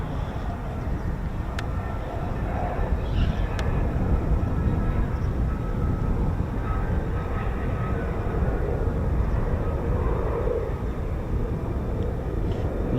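An F-35B stealth jet landing with aero braking, a broad steady roar heard from a distance that holds level throughout without sharp peaks.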